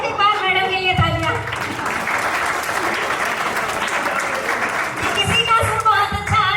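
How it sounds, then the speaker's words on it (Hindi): A crowd at a Republic Day poetry gathering applauds a woman poet, a sustained wash of clapping over several seconds, with voices speaking at the start and again as it fades. "एक बार मैडम के लिए तालियां"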